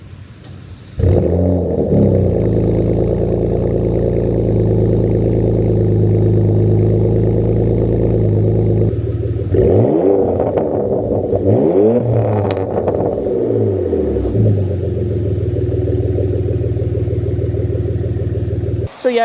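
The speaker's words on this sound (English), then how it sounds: "in case if y'all missed the video of me installing the exhaust on it, here's a quick sound clip" A 2016 Porsche Macan S engine revs hard through a loud aftermarket exhaust, holding a steady rumble, then blipping the throttle in several sharp rising and falling revs.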